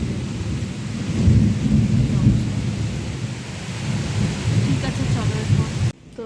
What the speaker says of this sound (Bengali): বৃষ্টির থেকে যেন বাজটা বেশি পড়ছে